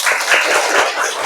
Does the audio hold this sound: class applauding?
yes